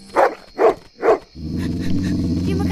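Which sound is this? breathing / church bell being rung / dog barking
dog barking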